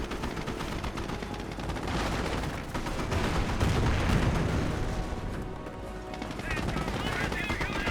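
Panzer Elite tank cannons and machine guns trade fire in a Company of Heroes battle against a Sherman, producing dense, continuous rattling gunfire with heavy booms that swell and ebb throughout.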